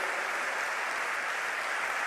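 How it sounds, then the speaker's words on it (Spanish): A church congregation applauds at a service, a steady dense wash of clapping at moderate volume with no talk over it. "Ahora sí, denle un fuerte aplauso"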